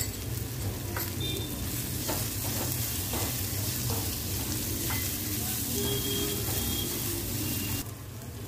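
Onion frying in a pan alongside salted shrimp, a dense continuous sizzle with intermittent stirring scrapes and taps, close and steady before it drops slightly near the end.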